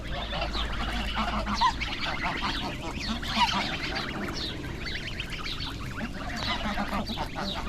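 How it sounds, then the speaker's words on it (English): A flock of geese honks continuously in an outdoor setting in Egypt, many overlapping calls at moderate distance over a low steady hum. "Geese."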